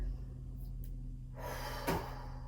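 A slow, audible breath drawn in and let out during a beginner pilates exercise, soft and close over a steady low background hum.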